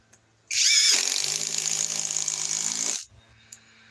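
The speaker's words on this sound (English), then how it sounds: "Okay, now we're going to switch over to the drill." A Bosch GSB 18B65 cordless drill drives a screw in one loud, steady run of about two and a half seconds, its whining motor rising quickly and holding until it stops, with quiet before and after.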